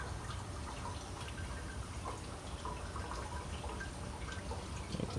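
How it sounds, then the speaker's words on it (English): Coolant trickles and drips steadily out of a Ford 2000 tractor radiator thick with sediment, a faint, continuous watery patter with no one speaking. "So we'll let this drain, and we got quite a bit of sediment in that radiator."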